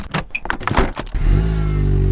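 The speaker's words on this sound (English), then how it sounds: "Amateur cold start," Volkswagen Golf R, damaged in a wreck and fitted with 19-inch alloys, cold-started after jangling keys and clicks: the engine catches and settles into a loud, steady idle close by.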